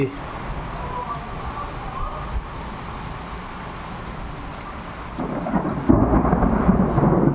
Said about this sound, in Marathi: विजांचा कडकडाट होतो आहे